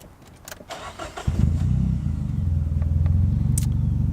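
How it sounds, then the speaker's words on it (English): A car engine cranks briefly, catches and starts, then settles into a steady, smooth idle rumble close by. "Let's start her up and see how she runs."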